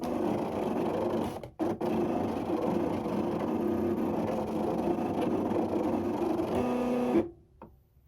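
A Cricut Expression cutting machine running a cut, a steady close whirring and buzzing of the motor and carriage with a couple of brief pauses, before stopping abruptly and falling quiet near the end.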